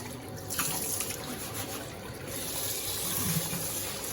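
Running hot water from a tap pours over rice in a sink as it is rinsed, a steady close gush and splash that swells slightly louder toward the end, with no voices.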